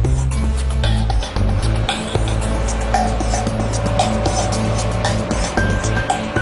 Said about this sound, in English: you can see how quickly Stryker can reposition itself and get ready to take off